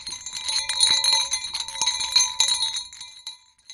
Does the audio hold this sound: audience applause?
no